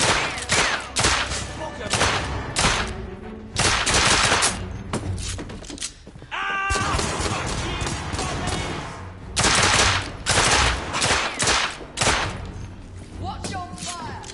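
Rapid bursts of gunfire crackle through a Victorian-era shootout in The Order: 1886, loud and dense, with machine-gun volleys, single shots and thuds, brief pauses between clusters, and voices calling out over the fighting.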